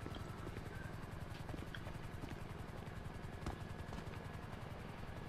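Helicopter rotor in GTA V Online, a steady rhythmic chopping thrum that holds evenly throughout at a moderate distance, with no talk over it.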